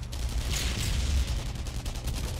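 Enemy mortar fire in the World War II shooter Enemy Front rumbles as heavy, continuous low booms and crackling blasts, loud and close, with no voices over it.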